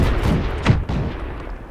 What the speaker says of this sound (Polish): Nie trafiłem, ale oddałem za to swój pierwszy e, strzał w tej rozgrywce.